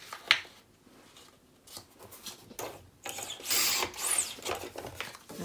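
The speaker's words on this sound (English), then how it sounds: "looks like I need to trim just a little bit off this edge." Scissors trim a little off the edge of a crafted paper piece, giving a few quiet, crisp snips and rustles at close range in a near-silent room.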